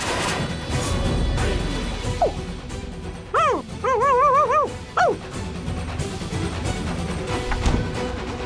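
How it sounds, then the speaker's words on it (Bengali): A dog in a Bengali TV drama gives a few short, sharp yelping barks in a brief cluster midway, close and fairly loud over a low background hum. "কখনো বিড়ালের শব্দ, কখনো কুকুরের শব্দ, কিন্তু বাইরে তো কেউ নেই।"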